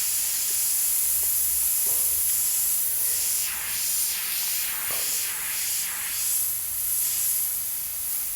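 Airbrush or spray gun misting white overspray onto a car driver's helmet, a soft steady hiss running throughout with a few brief pulsing bursts of spray near and clear.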